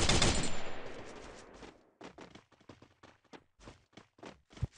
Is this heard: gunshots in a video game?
yes